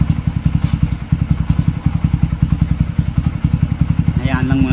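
A Yamaha NMax 155 scooter engine runs at idle up close, with a steady, fast, even pulsing chug and a light mechanical clatter; a voice briefly comes in near the end.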